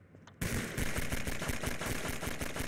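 Gunfire in Half-Life 2 starts abruptly and rattles on as a rapid, loud, evenly spaced burst of shots for a couple of seconds, with no voices.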